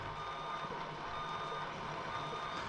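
A Tamiya Mercedes-Benz 4151 radio-controlled truck sounds its reversing alarm, a steady, faint, high-pitched electronic beep tone running throughout over low motor hum, with no talking.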